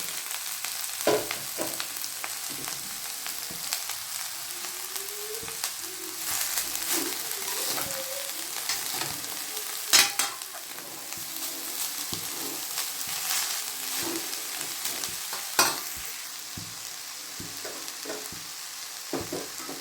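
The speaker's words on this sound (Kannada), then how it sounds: "ಫ್ರೈ ಮಾಡಿದ ನಂತರ ಅದೇ ಬಾಣಲೆಗೆ ಕುಂಬಳಕಾಯಿ" Pumpkin pieces frying in a pan for sweet pumpkin halwa, a soft continuous sizzle with occasional stirring scrapes and a couple of sharp clinks, no voices.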